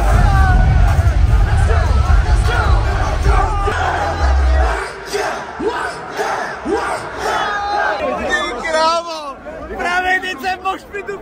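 A packed, dense crowd in Prague waiting for a Travis Scott concert, loud babble with whoops and yells close by, a low rumble early on, and voices shouting over the hubbub.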